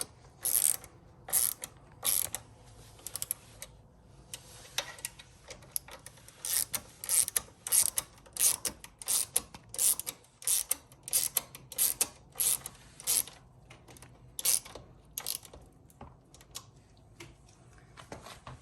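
Ratchet tightening the bolts of a Tektro Dorado four-piston hydraulic brake caliper on a Himiway e-bike, with repeated bursts of quick, close clicking pawl strokes separated by short pauses.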